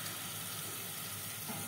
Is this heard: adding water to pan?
yes